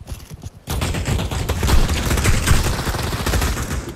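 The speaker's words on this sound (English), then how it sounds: "Hey, why you shooting at me?" Dense, sustained automatic gunfire from a first-person shooter VR game, beginning after a brief quiet start and then rattling on loudly with no talk.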